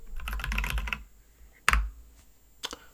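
Quick bursts of typing on a computer keyboard, a rapid run of key clicks followed by a few separate sharper taps and a spacebar-like clack, close and fairly quiet.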